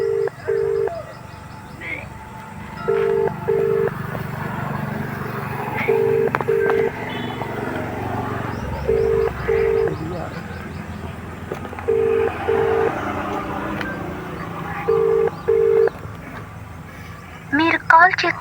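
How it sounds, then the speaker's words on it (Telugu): Ringback tone of an outgoing phone call that goes unanswered: paired beeps repeating about every three seconds over a busy background with talk and murmur. "ఫోన్ లేపుతలేడు ఏంది?"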